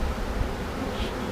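Honeybees buzz in a continuous hazy hum at the hive, close and fairly soft, with no voices over the short stretch.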